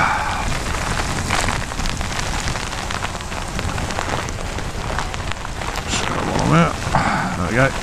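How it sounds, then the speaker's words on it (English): Heavy rain pours down steadily, loud and close, a dense hiss of drops hitting surfaces with occasional voices faintly mixed in. "here comes the storm"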